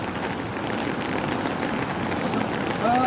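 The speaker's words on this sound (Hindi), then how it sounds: "आज जो धर्मशाला में बारिश हो रही है" Heavy rain pours steadily in Dharamshala during a cloudburst, a dense, loud, continuous hiss of drops on surfaces with no pauses, with a faint high tone briefly near the end.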